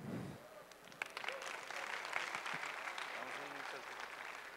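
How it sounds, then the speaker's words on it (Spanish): Faint applause from an audience at a tech event's virtual reality session, scattered claps swelling into steady clapping after a voice speaks at the start. "Un fuerte aplauso"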